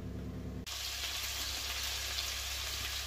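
Burgers fry in a pan, a dense, steady sizzle that suddenly swells louder after a brief quieter start and then holds, close and continuous.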